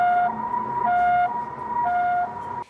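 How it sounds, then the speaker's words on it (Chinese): An ambulance siren sounds as the vehicle rushes to an elementary school on a rainy day, a loud two-tone wail alternating steadily at close range before cutting off abruptly. "救护车10万火急赶往一处校园，紧急将人送医"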